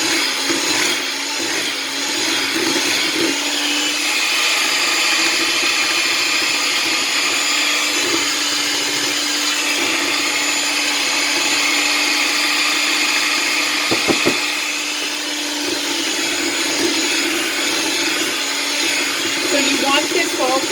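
Electric hand mixer whirring steadily as it blends dessert batter with vanilla and almond extract for cherry bars, a continuous loud motor drone with brief clatter against the bowl, no talk over it.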